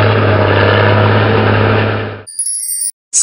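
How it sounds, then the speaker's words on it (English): A bulldozer engine runs loud and close with a steady low rumble for about two seconds, then cuts off abruptly, followed by a brief bright chime. "Bulldozer."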